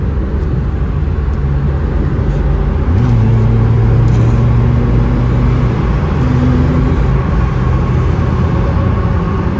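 A Honda car engine revving inside a tunnel, loud and close, the pitch climbing and then holding steady over a continuous rumble of road and engine noise.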